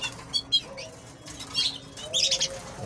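Caged birds in a home aviary chirp in brief high bursts, with a couple of soft wing flaps, all fairly faint over a quiet room background.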